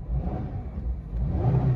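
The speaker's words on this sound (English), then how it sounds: "I'll give the car a bit of a rev." A 2018 Subaru XV engine revs briefly, a steady low rumble that swells a little louder toward the end of the short burst, heard close with no talking.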